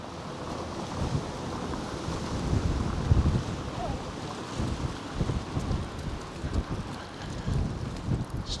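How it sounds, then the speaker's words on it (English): Gusts of wind buffet a microphone outdoors in Paguera, Mallorca, a loud rumbling roar that swells and dips, with a stronger surge partway through. "Every now and again there's a really strong blast of wind."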